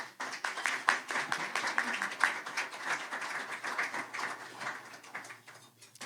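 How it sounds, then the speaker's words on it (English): An audience claps steadily, a dense patter of many hands that keeps going without a break before thinning a little toward the end. "please give them both a round of applause"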